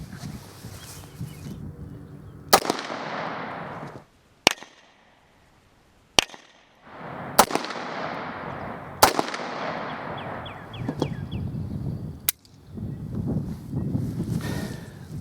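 A Beretta 92FS pistol fires several sharp, loud shots at a 15-yard range, spaced irregularly with echoing decays and quieter handling noise between them.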